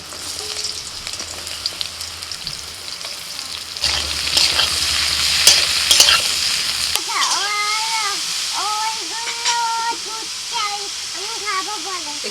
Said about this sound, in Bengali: কড়াইতে অল্প তেল দিয়ে আমি এখন ঝিঙে আর হোঁপাটা একসাথে দিয়ে দিচ্ছি